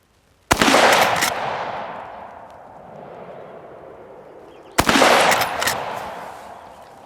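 Two sharp, loud shots from a Mossberg .22 lever-action rifle fired outdoors, about four seconds apart, each cracking hard and then trailing off in a long, rolling echo.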